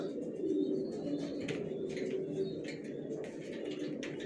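Original racer pigeon squabs coo softly and repeatedly, a low murmuring cooing continuing throughout with occasional brief chirps and faint rustling in the loft.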